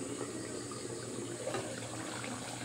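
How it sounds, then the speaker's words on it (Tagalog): A covered pot of liquid on the stove boils with a steady, close, rushing hiss of bubbling that holds an even level throughout, with no talking. "Okay guys, kumulo na siya."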